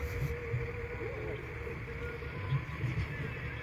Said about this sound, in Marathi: इकडे ट्रॅक्टर चालू आहे बघा